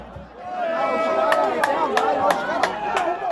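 A football crowd at a 1985 Bangu match in Brazil voices its displeasure with the result: a steady, dense roar of many voices, with sharp shouts and whistle-like peaks rising above it at about the midpoint.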